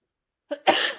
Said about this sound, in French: Sneeze. Ah, je tousse.